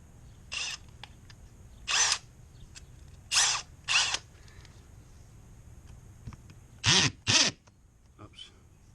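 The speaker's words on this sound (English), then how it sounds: "No more hammer drill." A hammer drill fires in several short, loud bursts separated by pauses, close by in a crawl space during hose bibb plumbing work, with background noise between the bursts.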